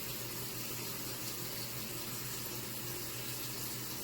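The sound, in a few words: water running from a sink faucet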